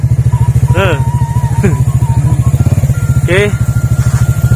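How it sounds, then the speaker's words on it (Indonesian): A Honda Supra Fit motorcycle engine chugs loudly and steadily up a rough mountain trail through pine forest, with a rhythmic pulsing throb under brief speech from the rider. "Kasihan nih motor Supra Fit nih. Masuk ke jalur gini, aduh."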